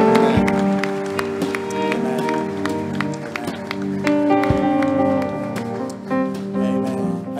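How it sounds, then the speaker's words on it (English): A church congregation claps together over loud, sustained worship music, the applause a dense continuous patter blended with the instruments. "Go ahead and just clap and appreciate the Lord."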